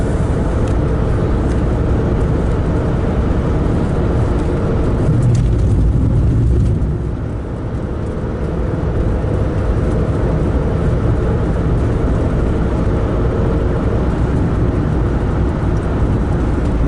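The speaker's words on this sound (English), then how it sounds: "This is what we think of as a traffic jam here, running up the back of a tractor and trailer." Road noise from inside a car stuck in slow traffic behind a tractor and trailer, a loud continuous low rumble of engine and tyres with a brief dip partway through.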